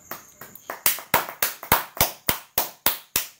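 A single person claps for herself, about a dozen sharp, close hand claps in a steady rhythm, starting softer and growing louder, with no other sound around them.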